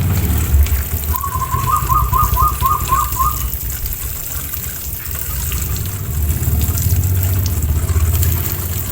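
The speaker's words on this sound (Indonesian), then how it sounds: "sekarang tinggal kita langsung siram aja ya" Dolomite lime solution is poured onto the soil around a grapevine, giving a steady trickle and splash of water throughout, with a brief run of chirpy whistling notes early on and no talking.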